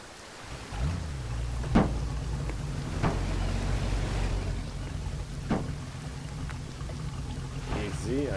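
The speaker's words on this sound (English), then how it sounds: "At least we do have a boat." A boat engine in the video game Arma 3 runs as a steady low drone, with the engine running red, broken by a few sharp splashy bursts and a noisy wash over it.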